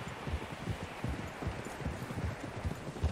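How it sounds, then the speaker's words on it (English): Horses' hooves clip-clopping in Red Dead Redemption 2, several horses moving at a steady walk with soft repeated thuds over a windy, rustling outdoor background, no talk. "Horses, quite a few of them."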